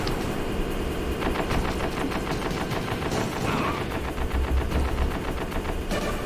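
Continuous rapid gunfire from the Metal Gear Solid video game, dense automatic bursts that run almost without pause, loud and close, with no talk over them.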